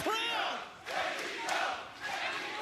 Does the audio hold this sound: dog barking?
no